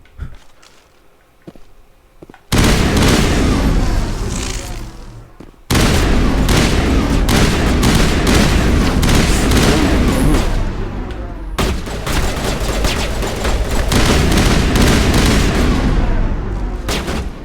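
Gunfire in the Mass Effect video game: dense bursts of loud, rapid shots and blasts come in long sustained volleys, broken by brief quieter gaps, with no talk.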